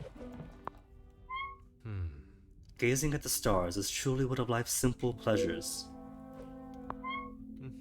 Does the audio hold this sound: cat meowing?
yes